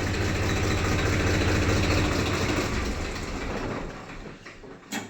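A Swaraj 963 tractor engine idles nearby with a steady, deep rumble that holds even for most of the stretch, then eases slightly before a small bump at the end; no one talks.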